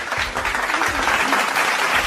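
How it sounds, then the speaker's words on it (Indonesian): Loud, close applause from a small audience thanking the guest speaker at the end of a podcast session, dense clapping that holds steady for a couple of seconds. "beri tepuk tangan dulu"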